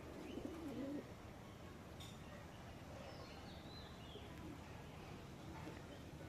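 Pigeons in a home pigeon loft coo softly, with one low rolling coo near the start and faint bird sounds over a quiet steady background hiss.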